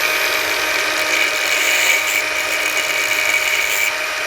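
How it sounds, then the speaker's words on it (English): Power grinder cutting a notch into rusty engine block bolts for a diesel engine build, a loud continuous high-pitched metal grinding whine held steady close up throughout, no talk. "now I'm gonna grind a notch in them like this"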